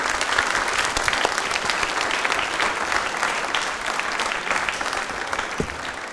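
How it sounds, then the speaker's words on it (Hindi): An audience at a televised Ambedkar Jayanti quiz programme gives sustained, hearty applause for a correct answer, many hands clapping in a dense, even wash for several seconds. "तालियां हो जाए जोरदार वाली"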